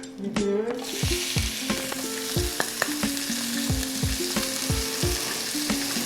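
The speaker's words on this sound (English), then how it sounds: "And then I'll add in my onions" Chopped onions hit hot sun-dried tomato olive oil with herbs and sizzle steadily, close and loud, while a utensil stirs them with repeated scraping knocks against the pan.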